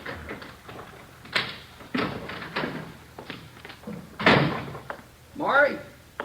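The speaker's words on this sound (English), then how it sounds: "Kitchen door." Kitchen door in a police radio drama creaks and thumps through several knocks and bumps of movement, ending in a latch-like clatter and a squeak, with voices murmuring in between.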